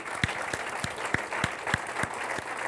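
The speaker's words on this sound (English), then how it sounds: "Let's give them a round of applause." Steady, evenly spaced claps at a network marketing meeting as one-star executives are recognized, in a brisk regular rhythm over faint room noise.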